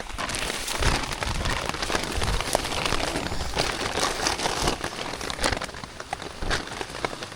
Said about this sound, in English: I think the rain got slower.